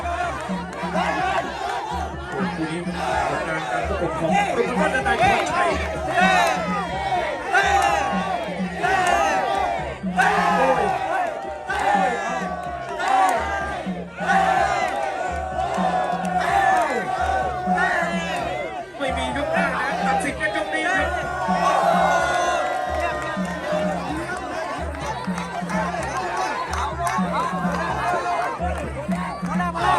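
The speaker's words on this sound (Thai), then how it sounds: "มาดูกองเชียร์" Muay Thai fight crowd shouting rhythmic, repeated chants in time with the action, loud and continuous with cheering and chatter throughout.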